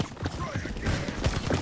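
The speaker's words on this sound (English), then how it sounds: "he's stomping around. Sprint makes a lot of noise." An enemy sprints in a video game, and the footsteps make a fast, continuous run of heavy stomping thuds, loud and close throughout.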